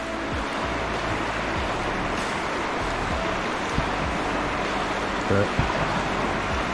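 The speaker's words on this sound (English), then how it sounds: "I just like to sit here and watch the water flow for a bit." River water flows steadily past a kayak on the Little Miami River near Milford, Ohio, a continuous close rushing wash with a few small splashes and knocks, and a brief spoken word over it.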